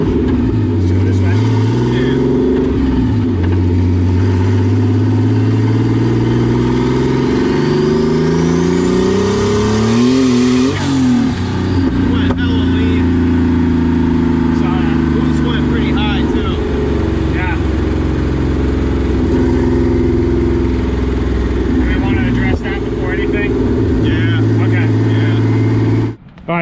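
A BMW turbo engine in a go-kart revving hard on a test drive, running lean, loud and close throughout with pitch sweeping up and down through repeated accelerations, a climbing whine rising near the middle, and voices talking over it.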